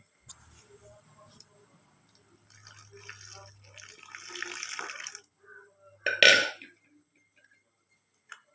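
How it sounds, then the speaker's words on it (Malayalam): Maida flour dough being mixed with water and salt in a bowl: soft wet splashing and squelching that builds in the middle, then one sharp louder burst near the end, quiet overall with no talking. "കുറച്ച് വെള്ളം ഒഴിച്ചതിനെ ഒന്ന് മിക്സ് ചെയ്തെടുക്കാം."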